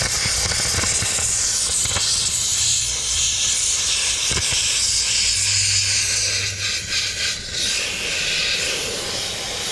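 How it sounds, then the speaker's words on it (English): A steam cleaner hisses continuously on a car seatbelt stain in a Toyota Crown JZS171, a steady loud jet of steam with slight variations and faint handling bumps, no speech. "then I'm gonna hit it with the steam"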